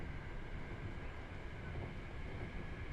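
Bullet train running at speed in the railway simulator Train Drive ATS, a steady, dense rumble and rushing roar with no breaks or voices, constant and fairly loud throughout.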